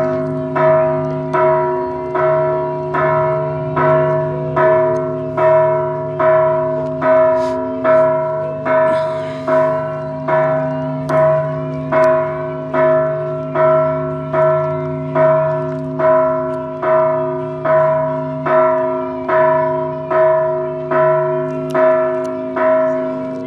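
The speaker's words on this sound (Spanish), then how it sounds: "Oigan nada más las campanas de mi pueblo." Village church bells ring loudly and steadily, one strike roughly every second, resonant tones overlapping and sustaining for over twenty seconds with no one talking.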